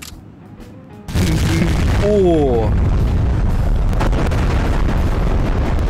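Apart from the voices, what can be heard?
bomb explosions in the video game Garry's Mod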